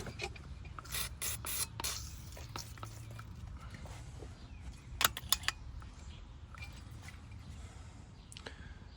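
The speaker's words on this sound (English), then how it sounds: "give it our bolts a little spray with this just to make removal easier" Short hissing bursts of aerosol lubricant sprayed on front strut bolts of a 2006-2010 Dodge Charger, a few quick sprays near the start and a cluster in the middle, over faint background noise.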